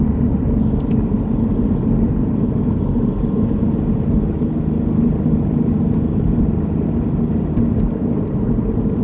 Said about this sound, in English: The poor engine's screaming at you.